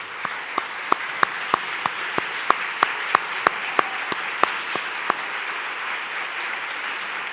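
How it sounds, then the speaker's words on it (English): A conference audience at a diabetes technology symposium gives a round of applause, crisp individual claps ringing out over a steady wash of clapping that fades away after about five seconds. "give you a round of applause"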